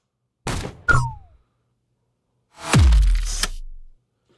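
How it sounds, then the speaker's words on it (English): A short sharp transient with a falling whoosh, then after a pause a heavy booming impact with a deep low rumble that decays over about a second. "I put in a big cinematic hit"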